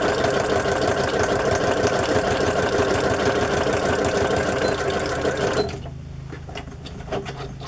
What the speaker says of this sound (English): I'm going to do another row of stitching.